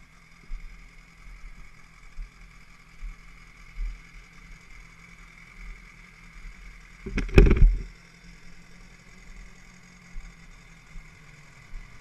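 A BMW S1000 RR sport motorcycle runs at a steady idle close by, a low even drone with one brief louder surge partway through.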